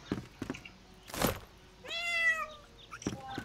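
A cat meows once in the video game Portal Knights, a clear drawn-out meow after a few soft thumps and a short burst of noise.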